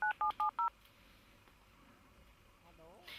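Four quick touch-tone beeps ring out as a telephone is dialed, closely spaced and clear, followed by faint room noise and a soft rustle.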